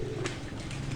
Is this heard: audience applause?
no